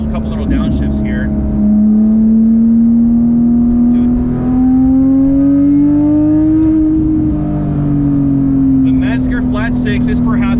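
Porsche 997.2 GT3 RS flat-six engine blipping through a couple of downshifts, loud and close, its steady tone rising and falling with each rev, a voice speaking briefly over it near the end.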